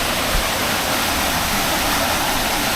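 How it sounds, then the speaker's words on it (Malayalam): Hot spring water gushes forcefully at a camping area, producing a loud, dense, unbroken roar like a waterfall, heard close and steady with no voices. "നല്ല ഫോഴ്സിലാണ് വെള്ളം വരുന്നത്"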